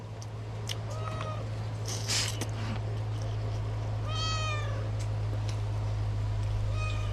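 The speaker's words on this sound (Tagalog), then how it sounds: "May pusa pa dito mga idol." A cat meows several times, faint and a little distant, over a steady low hum, with short pauses between the calls.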